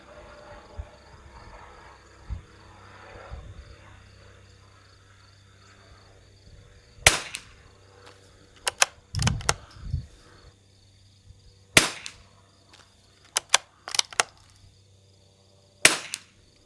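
Several sharp rifle shots from a sporter rifle shooting RWS rifle match ammunition on a very windy range, spaced out in ones and pairs over quiet background wind, with faint handling noises between them.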